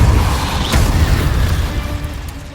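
Booming magical spell blasts and rumbling impacts from Hogwarts Legacy combat, loud and dense with a deep low roar, one sharper burst standing out early before the din slowly fades.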